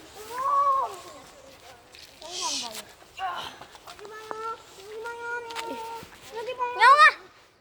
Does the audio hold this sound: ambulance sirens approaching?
no